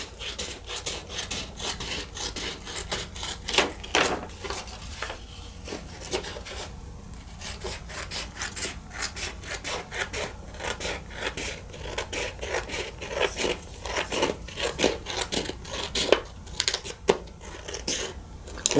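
Scissors cut through straw wreath material with repeated rhythmic rasping snips and scrapes, close and steady over a long stretch with no talking.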